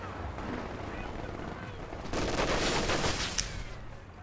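AT strafe aircraft attack in a strategy video game, hitting a Wolverine vehicle, a sudden rush of rapid gunfire and impacts rising halfway through over a low background bed, with a commentator talking.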